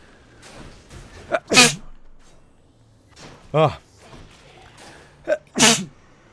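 Two sharp, loud human sneezes ring out about four seconds apart, each preceded by a short inhaled buildup, with a brief vocal exclamation between them.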